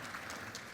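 A brief moment of audience applause for a panel at a justice summit, a dense continuous patter of many hands clapping at moderate volume with no voices over it.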